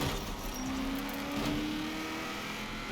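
A video-game car engine held at half throttle, a steady mid-pitched drone running continuously and fairly loud for the whole stretch, with no talk over it.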